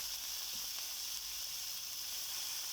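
Vegetables and chicken gizzard fry in a pan for a second batch of Nigerian fried rice, giving a steady, even sizzle with a few faint stirring clinks.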